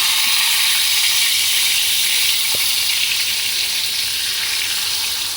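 A whole stuffed pomfret of about one kilogram fries in a pan over a medium gas flame, giving a steady, even sizzle with no voices throughout.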